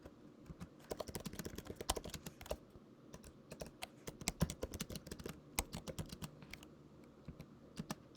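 Rapid, irregular clicking of computer keyboard keys while Python code is entered, close and steady with short pauses and no talking.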